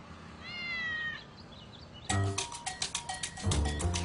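A cat on a slow-speed driving test course in the Philippines gives one clear, close meow, followed by a rhythmic series of sharp, bell-like knocks.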